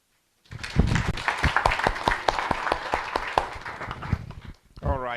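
Applause from the audience at an East African youth agri-food trade fair and expo: a burst of clapping that starts abruptly, stays dense and lively for about four seconds, then stops, followed by a brief voice.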